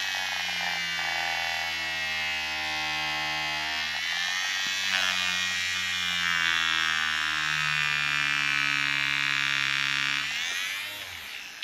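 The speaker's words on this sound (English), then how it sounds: "You can hear the motor slowing down because the magnets are reacting with all the metalwork" An electric motor spinning a magnet inside a disassembled vehicle speedometer, giving a steady close buzzing whine whose pitch slowly falls as it slows, continuous throughout before cutting off at the end.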